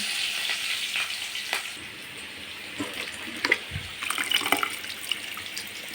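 Oil sizzles steadily in a pan while kalmi greens are being cooked, a continuous close hiss with small crackles and a few louder pops near the end, with no voices.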